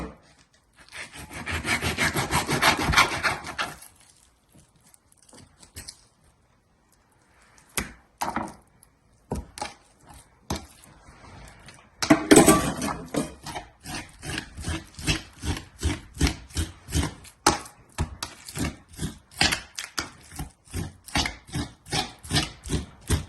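A knife cuts meat for suya in repeated rhythmic strokes, a burst of scraping at first, then a pause and a long run of quick, close sawing cuts, no talk.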